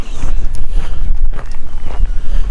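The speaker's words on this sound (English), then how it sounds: "it's still a bit breezy like it was yesterday, but the wind's from the west" Breezy westerly wind buffeting the microphone on a northeast coast walk south of Craster, loud and rumbling with gusty swells, plus faint scuffs that could be footsteps.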